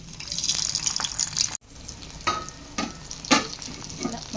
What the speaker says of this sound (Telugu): ఇప్పుడు ఈ గుత్తి వంకాయలు అందులో వేసుకొని ఫ్రై చేసుకుందాం